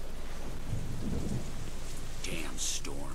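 Thunderstorm in the video game Deadlight: steady heavy rain hiss runs throughout, with a low rumble of thunder early on and brighter crackling bursts near the end.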